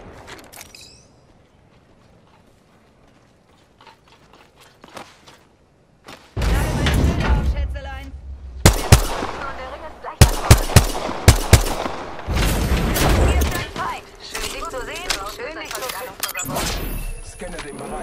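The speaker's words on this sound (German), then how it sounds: "werde beschossen" Gunfire in Apex Legends rattles out after a quiet start: rapid machine-gun bursts and single sharp shots come close and loud, mixed with thuds and impacts, while a voice talks over part of the fight.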